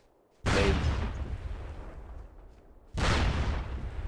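Two heavy grenade blasts in a multiplayer war video game, about two and a half seconds apart, each a sudden loud boom trailing off into a long rumbling decay.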